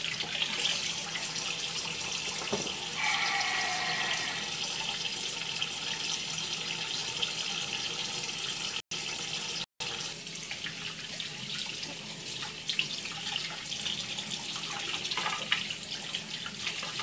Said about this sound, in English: I need to wash my hand.